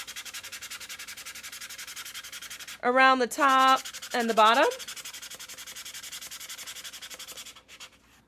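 Sandpaper rubs against a plastic Starbucks cold cup in quick scratchy strokes, three bursts close to the microphone over faint steady background noise, with a brief spoken remark.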